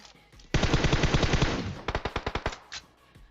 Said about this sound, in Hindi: अब ये लोग आगे गोलियां दबा के चला रहे हैं